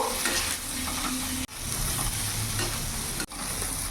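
Soya chunks stir-fry in a pan with a loud, steady sizzle and stirring scrapes, broken by two brief sharp dips.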